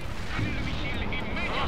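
Heavy sustained gunfire and distant battle rumble in the real-time strategy game World in Conflict, a dense continuous barrage of shots with voices talking over it throughout.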